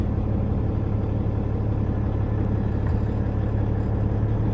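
A 2020 Peterbilt 389 heavy daycab truck idles while warming up, its diesel engine a steady, loud low rumble with an even throb and no other sounds.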